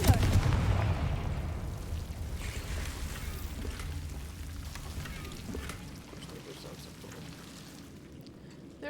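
A Confringo fire-blast spell explodes in Hogwarts Legacy, a loud burst at the very start that fades into a long, low rumbling tail beneath steady game ambience.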